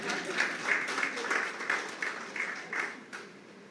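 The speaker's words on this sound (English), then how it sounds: "yes, you can clap, of course you can clap" Scattered hand clapping from a crowd at an official closing ceremony in Dominica, fairly faint and steady with a few louder bursts, no voices on top.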